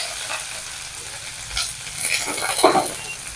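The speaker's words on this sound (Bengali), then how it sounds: "এবারে দিয়ে দেবো কারি পাতা, একটু হালকা করে নেড়ে চেড়ে নেব।" Curry leaves fry and crackle in a hot pan for a spicy semolina dish, a steady close sizzle with scraping stirring strokes that grow louder toward the end.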